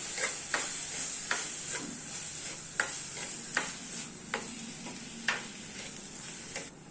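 Beetroot thoran is stirred in a frying pan, a steady sizzle broken by repeated sharp scrapes and taps of the spoon against the pan, close and moderately loud with no voices.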